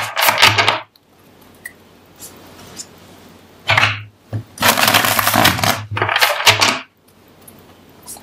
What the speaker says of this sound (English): Now, let's shuffle the deck 5 times.